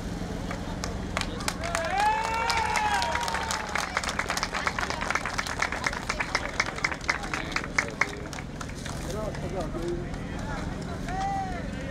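Outdoors at a truck accident on a highway, a crowd applauds rescue workers freeing a victim, a brisk rhythmic clapping from many hands at a distance, mixed with talking voices and some shouts.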